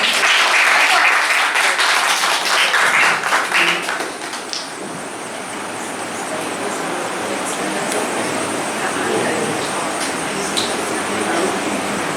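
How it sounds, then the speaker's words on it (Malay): Secondary-school students clap for their classmates at a school mentoring programme launch, a loud burst of applause that tapers off after a few seconds into a busy room murmur with faint background noise. "bagi tepukan dekat kawan-kawan"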